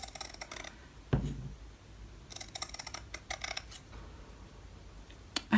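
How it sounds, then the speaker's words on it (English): Scissors snip away excess fabric while finishing a tart tin craft, several quiet, close crisp cuts in short clusters with soft handling rustles between them. "just trim some of this excess off with my scissors"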